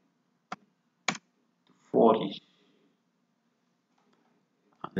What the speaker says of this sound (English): Then I click on add.